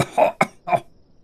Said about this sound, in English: pausing again to let out a pained cough